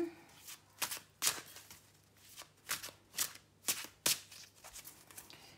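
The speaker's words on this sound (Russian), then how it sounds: "Перемешиваем наши карты." Tarot cards shuffled by hand, a series of crisp riffling bursts in irregular rhythm, close and quiet, separated by short pauses.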